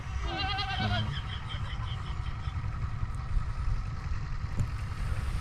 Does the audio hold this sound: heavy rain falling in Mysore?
no